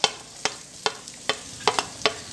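Chopped onion frying in vegetable oil, with about six evenly spaced scraping stir strokes over a soft, low sizzle, close by.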